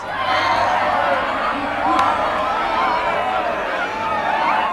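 A lively indoor crowd murmurs and chatters in a continuous, fairly loud wash, with scattered chuckles and whoops rising over the steady hubbub.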